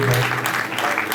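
An audience claps at an award ceremony honouring children, a dense, continuous round of applause over a short stretch with no clear pauses.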